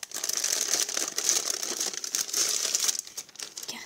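Crinkly wrapping being torn open from a surprise parcel box, a steady close rustle and crumple of paper or plastic for several seconds before easing off.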